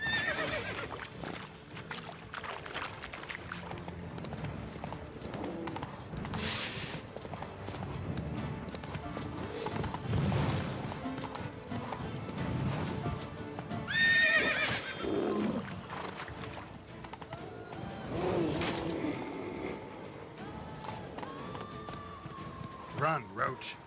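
Roach, the horse in The Witcher 3, gallops with steady clip-clop hoofbeats and occasional whinnies amid game music and ambient effects, with someone talking over parts of it.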